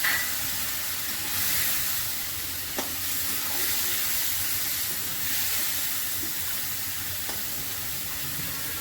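Spice paste of turmeric, chili powder, cumin and coriander powder mixed with water sizzles in a hot pan, a steady close hiss and crackle throughout with a few faint clinks and no talk.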